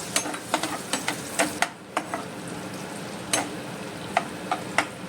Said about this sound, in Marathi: आतां न्हू हे गार्लीक आनी जिंजर घाता हितून आनी तें तशें करून भाजीता